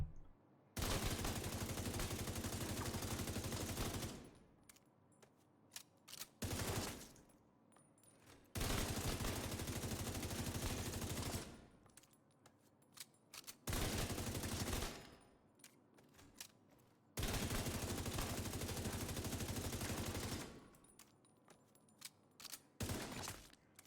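Assault rifle fire in the game The Division 2 comes in long, loud, sustained automatic bursts, four full bursts separated by short pauses, with a fifth starting at the end.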